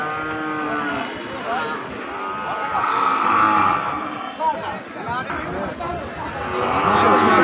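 Cattle at a busy livestock market for Eid sacrifice, several loud drawn-out moos rising from nearby animals amid crowd chatter and people talking.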